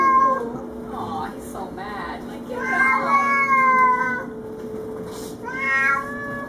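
A territorial cat facing an intruder cat yowls in long, wavering, drawn-out moans, rising and falling in several close, loud bouts with brief pauses between them.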